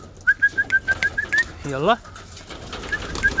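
Pigeons let out of a coop, with a burst of wing flapping and cooing near the middle, set against a steady series of short whistles. Someone speaks one brief word.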